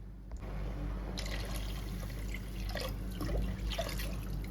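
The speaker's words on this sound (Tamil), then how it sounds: "ஒரு 2 சொம்பு தண்ணி ஊற்ற போகிறேன்" Water poured into a simmering Chettinad fish curry of about a kilo of fish, with two pots of water added to the boiling masala, a soft trickling splash and patter, faint and close, with no voices.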